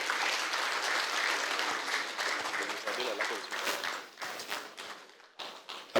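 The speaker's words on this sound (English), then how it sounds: "I believe those applause can be a bit louder for the Honorable Minister of Information" Applause at a ministerial press briefing in Nigeria, a roomful of hands clapping fairly close, steady at first, then thinning into scattered claps, with a voice speaking near the end.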